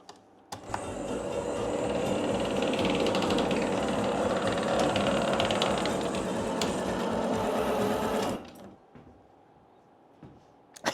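A homemade gearbox and rope pulley drive on a miter saw elevator whirs steadily for about eight seconds with a dense ratcheting gear chatter, then stops abruptly, leaving a faint hum and a few small clicks.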